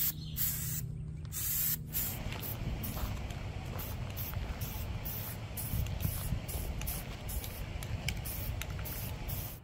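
A steady hiss of spray painting a child's rocking chair runs almost the whole time, with short breaks early on as the spray trigger is released and pressed again.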